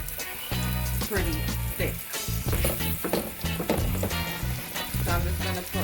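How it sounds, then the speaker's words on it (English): Thick pork chops fry in a pot with a loud, continuous sizzle and crackle, broken by a few clattering stirring and handling noises, while a person speaks briefly over it. "I'm going to let it fry for like 3 to 4 minutes on each side"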